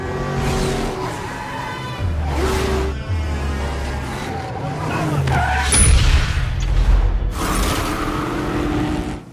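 A car is driven recklessly through a chase, its tires skidding and squealing over engine roars and bangs, loud and close, with a few brief voices mixed in.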